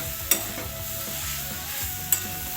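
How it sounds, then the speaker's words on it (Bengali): Potato being stirred into a cauliflower and spice mixture in a pan, soft scraping and stirring over a low sizzle, with two sharp clinks of the utensil against the pan. "দিয়ে আবারও ভালো করে এই ফুলকপির সাথে আলুটাকে মাখিয়ে নেব।"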